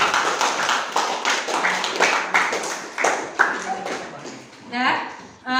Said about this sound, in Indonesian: aplaus untuk tampilan kelompok semuanya